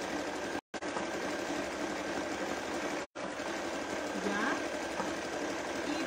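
A sewing machine runs a straight seam on a fabric bag, a steady close whirring hum that stops briefly twice, with no talking heard over it.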